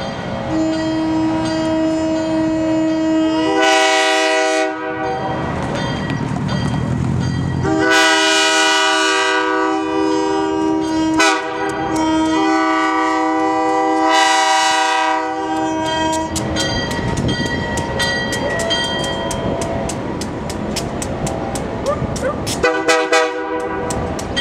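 Diesel locomotive on a Durango–Silverton rail trip sounds its horn at a crossing in several long, loud multi-tone blasts, with rumbling engine and rolling train noise continuing between them.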